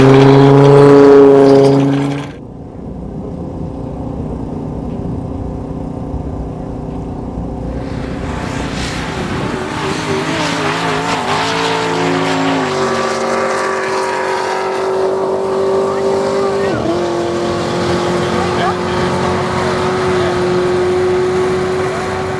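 A drag racing car at a half-mile event roars past at about 181 mph, its loud engine building and holding a rising howl, near and intense throughout.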